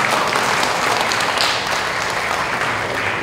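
Sustained applause from a crowd of pastors and congregants welcoming one another at a Korean Methodist general assembly opening worship service, steady and dense throughout with no pause.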